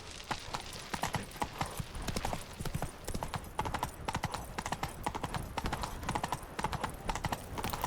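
Roach the horse trots in The Witcher 3, hooves clip-clopping in a brisk, even rhythm close by, with a voice briefly urging the horse on.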